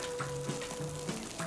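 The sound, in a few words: meat patty with salted fish and water chestnut pan-frying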